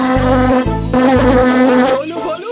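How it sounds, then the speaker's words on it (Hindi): A cartoon mosquito buzzes loudly and close in a Chhota Bheem kids' cartoon, its high whine wavering in pitch and broken into a few short pulses over a low droning tone. "जरा मेरी नाक के ऊपर से मच्छर उड़ा दो"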